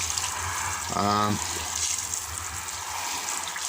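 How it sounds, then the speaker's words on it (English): Cold tap water runs briefly over a foil highlight cap on a client's head during hair colouring preparation, a short gushing splash lasting about half a second amid steady background hiss. "we could then run some cold water over the hat"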